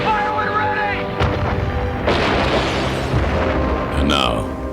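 Artillery guns fire in a war drama, heavy booms and rumbling blasts rolling one after another over a dense, continuous battle din for several seconds.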